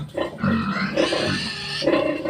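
Several pigs grunt and squeal together close by, a continuous busy chorus of rough snorts and grunts with no speech over them.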